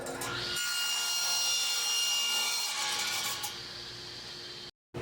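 A saw cuts along a marked line in a piece of wood for a bird feeder. One sustained, loud, close rasping stroke runs for several seconds, then fades and stops abruptly, with no talk.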